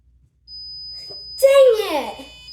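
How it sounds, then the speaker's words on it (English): A homemade PIR motion-sensor cookie alarm sounds a steady, thin, high-pitched electronic tone that holds for about two seconds, with a loud voice exclaiming partway through. "Now let's see if this works as a cookie alarm."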